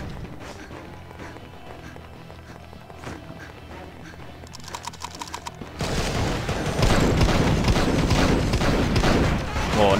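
Shotgun blasts in the mobile shooter game Argent Wings, a dense burst of loud gunfire that begins partway through and continues steadily under busy game music and effects.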